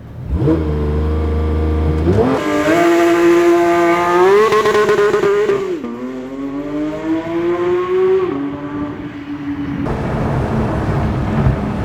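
A Porsche 992 GT3 makes a launch-control start, its engine held near 3,500 RPM and then released with brief wheel spin. The engine wails loud and close, climbing through several sharp upshifts before easing off near the end.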